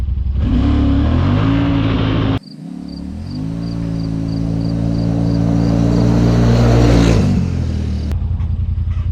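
A Yamaha Wolverine X4 side-by-side fitted with a JBS sheave launches at full throttle, its engine droning loudly and rising steadily in pitch for several seconds before cutting off abruptly, close up.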